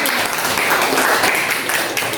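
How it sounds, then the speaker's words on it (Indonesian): A classroom of students applauds Kakak Bella during a mathematics teaching session, with dense, steady clapping close by that fills the room without a break. "Tepuk tangan untuk kakak Bella."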